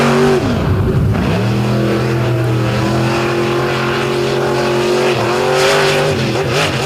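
A drag racing truck makes a fast pass at the Indy finale, its engine roaring loud and close. The engine revs up in steady rising and falling pitch sweeps, with crowd noise faintly underneath.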